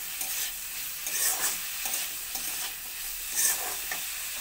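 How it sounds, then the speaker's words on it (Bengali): Carrots and potatoes fry with a little salt in a pan, giving a continuous loud sizzle broken by repeated scraping stirs of a spoon against the metal. "সবজিগুলোকে ভেজে নেব"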